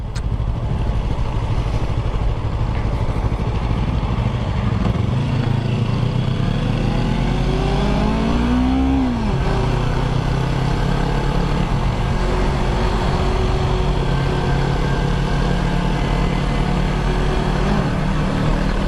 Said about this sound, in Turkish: Bu 2021 R25'lerin egzozlarından böyle ufak tatlıdan bir tuhaf bir ses geliyor çözemedim